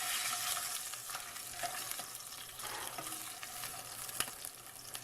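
Tuna steak searing in a hot pan: a continuous close hiss and crackle of sizzling oil, fairly even and moderately faint, with a single sharp tick near the end and no talking.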